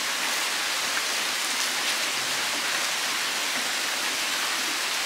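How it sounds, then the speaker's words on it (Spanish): Steady rain falls through the forest trees of La Tigra National Park in Honduras, a dense even hiss of drops on leaves that continues unbroken throughout, with no voices. "quiero dejarles esta toma para que disfruten la lluvia, cómo se escucha entre los árboles del bosque"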